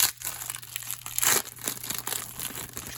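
Foil packs of 1994 Topps baseball cards being torn open and handled, giving a close, steady crinkling and crumpling of wrapper with a few sharper tearing bursts, and no voices.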